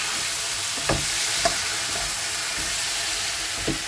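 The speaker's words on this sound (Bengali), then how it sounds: "হলুদ গুঁড়ো দিয়ে এটাকে কষিয়ে নেবো" Spices sautéing with turmeric powder in a pan, a continuous frying sizzle with a few light stirring knocks spaced across the clip, close and steady, no voices.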